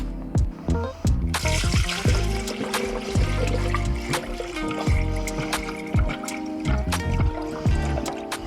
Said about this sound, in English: You may have to massage your radiator hoses to get coolant to go down, but you see, it'll go in.